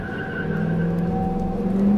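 Small car driven hard through a quick chicane, engine revving under load with a rising whine as it accelerates through the gears, close and loud, with tires scrubbing and squealing.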